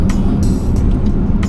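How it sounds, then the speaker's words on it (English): A 2008 Bentley Continental GTC with a W12 engine drives along in a steady, loud, smooth low drone heard from inside the car, with brief higher noises flicking over it. "that engine sounds like nothing I've ever heard before."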